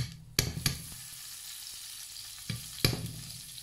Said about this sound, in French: Dans la même poêle, je vais rajouter du beurre.